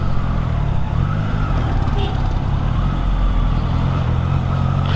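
Triumph Trident 660 motorcycle engine under gear changes, a continuous loud close-up drone with a brief break in tone near the middle, over wind rush.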